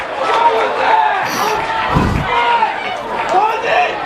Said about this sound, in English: Crowd didn't like that call.